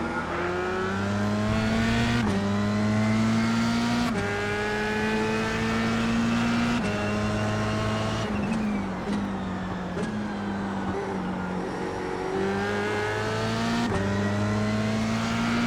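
F3 race car engine in the iRacing simulation accelerating hard through repeated gear shifts, each rising whine cut by a quick upshift, with a brief tire squeal, loud and steady with no talking.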